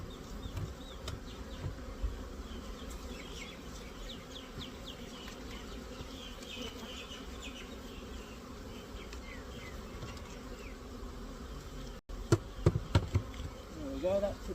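A dense, steady hum of many honey bees buzzing close by as a swarm is shaken in front of a hive, continuous throughout, with a few sharper knocks and rustles near the end.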